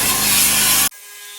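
Wet abrasive blasting with grit against Land Rover panels gives a loud, dense rushing hiss that cuts off abruptly, leaving a faint low hum.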